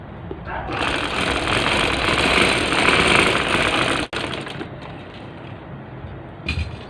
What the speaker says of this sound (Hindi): ये सुराख के साथ साथ मैं सिलाई दे रहा हूँ